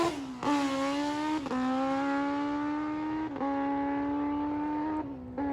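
A newly built drag racing motorcycle tears down the strip, its engine screaming loud and close through a series of rising gear pulls, each upshift dropping the pitch before it climbs again.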